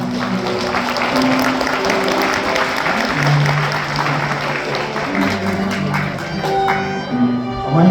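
Wedding guests at a Seoul wedding hall applaud together, the clapping running steadily throughout alongside sustained tones of background music, with a slight swell near the end.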